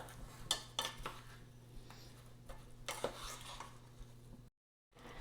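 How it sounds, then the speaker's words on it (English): Berries cooking down with sugar are stirred in a pot, with soft clinks and scrapes of a spoon against the pot over a low, faint bubbling, ending in a brief silence. "Go ahead and give it a little stir"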